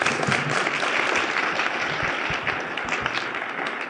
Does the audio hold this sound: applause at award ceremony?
yes